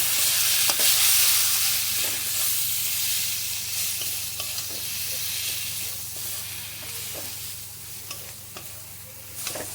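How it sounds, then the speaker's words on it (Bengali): Ground spices such as cumin and garam masala frying and being stirred in a pan for khichuri, giving a continuous close hiss and sizzle with faint scraping stirs throughout and no talking. "এবার ভালো করে কষে নেবো মশলাটাকে"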